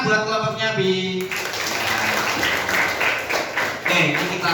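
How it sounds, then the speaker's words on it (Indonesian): Students in a classroom applauding a student group, a dense burst of hand clapping that starts abruptly and carries on steadily, with a voice speaking just before it begins. "Tepuk tangan buat kelompoknya Bi"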